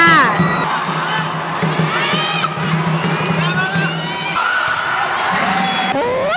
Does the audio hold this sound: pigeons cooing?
no